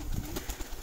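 Rooftop pigeons kept by a hobbyist coo softly in a brief, faint burst, a low throaty murmur close by, with no talk over it.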